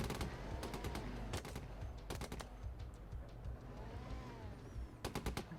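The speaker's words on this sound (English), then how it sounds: "that is just a straight up machine gun" Video game machine gun firing from a vehicle gunner position, rattling out in short rapid bursts separated by pauses, loud and close over a rumbling engine-like background.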